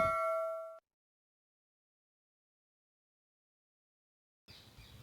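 A notification bell rings one bright ding that fades within a second. Near-silence follows, then a faint rustle of room noise.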